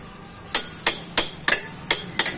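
Six evenly spaced sharp hammer taps fitting a Passion Pro motorcycle brake shoe onto the wheel axle, close and clear over a quiet background.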